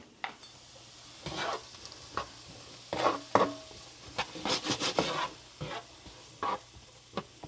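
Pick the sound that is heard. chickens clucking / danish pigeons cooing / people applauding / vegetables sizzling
vegetables sizzling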